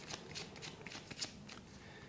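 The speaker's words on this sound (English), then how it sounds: "Before I channel, I'm being told to pull some more cards." A deck of tarot cards is shuffled close by, a soft, steady riffling and flicking of card edges, quiet and unaccompanied by speech.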